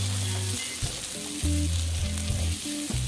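Boiled potatoes scraped and mixed in a hot pan for a lunch-box dish, with steady frying sizzle and repeated stirring strokes, close and moderately loud, no voices.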